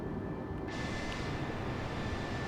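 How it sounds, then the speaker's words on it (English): A jet airliner drones in Microsoft Flight Simulator while cruising at night, a dense, steady engine roar filling the whole clip with a faint high whine above it and no speech. "We got a plane out to the left over there."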